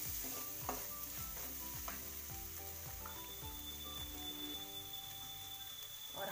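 Onion, garlic and coriander paste with ground chili and turmeric fries in a pan, a steady sizzle under a repeated rhythmic scraping and stirring, alone without talk.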